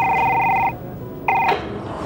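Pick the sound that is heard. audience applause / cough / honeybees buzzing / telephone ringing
telephone ringing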